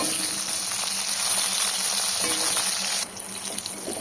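Pointed gourd sizzles steadily in hot oil, a dense crackling hiss that softens slightly near the end, with no voices.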